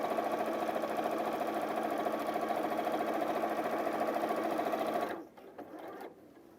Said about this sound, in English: we're sewing along using a 1/4-inch seam allowance on all 4 sides